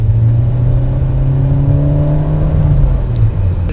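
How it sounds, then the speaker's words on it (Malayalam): A 2021 Hyundai Creta's turbo petrol engine revs with a loud, steady drone that climbs gently in pitch, close and continuous with no talking. "അതിൻ്റെ ടർബോ എഞ്ചിൻ ഓൺ ആവുന്നതിൻ്റെ ആ ഒരു"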